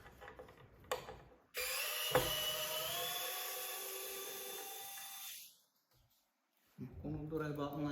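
A Vessel rechargeable electric screwdriver whirs in one steady, loud motor run lasting several seconds, with a faint click near its start, then stops; a few quiet sounds come before it and a voice speaks afterward.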